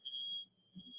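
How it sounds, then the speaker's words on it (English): A fire alarm sounds in one short, faint, high-pitched electronic tone lasting about a second, with a low hum beneath it and no speech. "That was a fire alarm."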